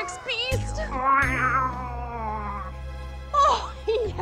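A cat gives a drawn-out, wavering meow and then a second shorter cry a moment later, close and clear over a low background rumble.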